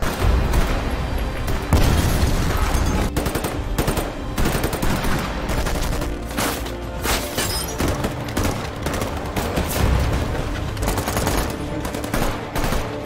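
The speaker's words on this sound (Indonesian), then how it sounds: "terjadilah baku tembak yang sangat seru" A film gunfight between a SWAT team and robbers, dense loud bursts of automatic gunfire and single shots rattling almost continuously, with booming impacts underneath and no talk.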